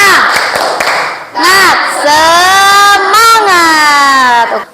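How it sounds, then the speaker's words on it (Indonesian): A classroom of children chanting the 'tepuk semangat' clapping cheer, loud and close, with shouted sung syllables over rhythmic hand claps, led by a teacher. "Tepuk semangat."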